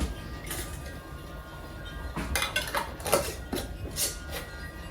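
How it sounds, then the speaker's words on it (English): Metal rings and lids going onto glass pint canning jars of homemade potato soup before pressure canning, a run of close clinks, taps and scraping clatters in irregular bursts. "So we'll add our rings and lids and get this in the pressure canner."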